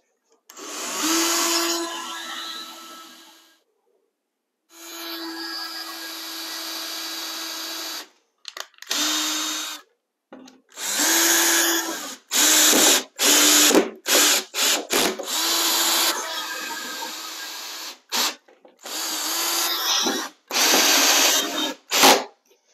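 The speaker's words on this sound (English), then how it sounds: "And I'll pre-drill these holes." A power drill pre-drilling holes for shelves whirs in repeated bursts, long runs at first, then a rapid series of short stop-start spins, loud and close.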